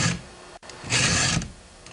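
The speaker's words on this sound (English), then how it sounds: "remember to only apply pressure to the file when you're pushing forward" A hand file rasps across chainsaw chain teeth in two firm forward push strokes separated by a brief pause, close and dry with a gritty metallic scrape.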